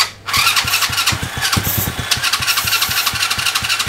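A go-kart engine starts up and runs close by, a rough, rapid putter of firing pulses that holds fairly loud and steady with slight variations.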